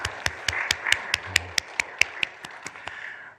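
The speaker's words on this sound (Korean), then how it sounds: "다시 한번 하나님께 감사함으로 영광의 박수 올려드릴까요?" Sparse hand claps from a church congregation give thanks in worship, a dozen or so sharp separate claps spaced about a quarter second apart over a soft murmur, fairly faint and fading toward the end.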